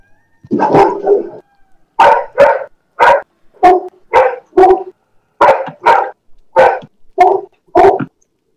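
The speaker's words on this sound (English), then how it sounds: "That's just my dog. Don't mind them." A dog barks close by in about a dozen sharp, loud barks, mostly in quick pairs with brief pauses between them, and no voices are heard.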